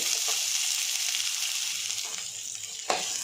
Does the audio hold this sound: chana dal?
yes